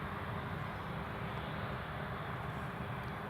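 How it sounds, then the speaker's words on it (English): A Ryanair Boeing 737 MAX on final approach at Newcastle International Airport gives a steady, distant jet engine roar that fills the background without change, with no talk. "we've got I think it's a Ryanair 737 MAX just on final approach now"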